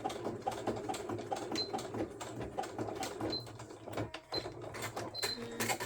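A sewing machine stitching small fabric collage pieces together, a quiet, steady mechanical whir with a fine rapid rhythm running throughout.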